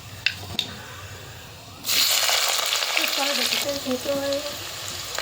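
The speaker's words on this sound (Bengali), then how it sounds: "তো বন্ধুরা দেখতেই পাচ্ছ পেঁয়াজ কিন্তু ভাজা ভাজা হয়ে গেছে।" Onions sizzling and frying in hot fish oil in a pan, a steady loud hiss starting abruptly partway through after a quieter stretch with faint clatter.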